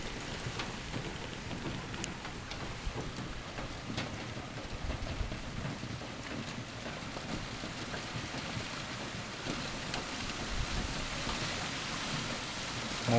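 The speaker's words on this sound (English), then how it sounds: "More hail." Hail falls steadily outside a shed in bad weather, making a dense, continuous patter across the roof and surfaces, moderately loud and unbroken throughout.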